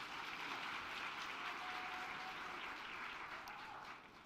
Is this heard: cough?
no